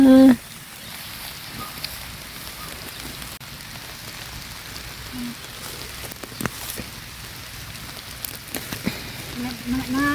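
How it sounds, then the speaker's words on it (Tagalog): Light drizzle patters beside a fishpond in a soft, steady hiss of scattered droplets, with a few brief louder ticks and sounds near the start and end. "Ambon na."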